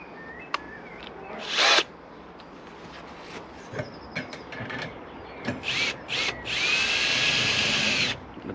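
A power drill drives a ground anchor bolt on a polytunnel frame in short whirring bursts, ending in one longer steady run near the close, with ratcheting mechanical clicks between bursts.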